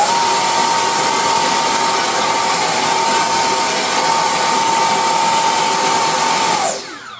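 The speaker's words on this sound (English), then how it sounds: "motor on." The electric motor of an X-Fly F-22 twin 40mm RC jet runs at a steady, loud, high-pitched whine with a constant tone, held close, then spools down quickly near the end.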